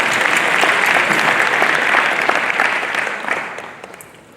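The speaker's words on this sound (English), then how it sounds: "Did I hear you giving them a nice round of applause?" A conference audience at an investment and jobs event breaks into a loud, dense round of applause from many hands, sustained and then fading away toward the end.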